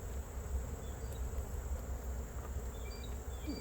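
Honey bees buzz steadily around a garden apiary hive in August, a dense, continuous hum filling the background with no talk.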